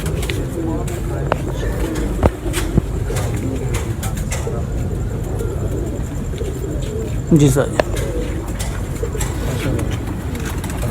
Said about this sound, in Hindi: ये हमारा बूढ़ा कबूतर है